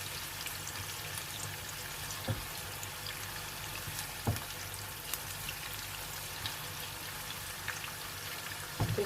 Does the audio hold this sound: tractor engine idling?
no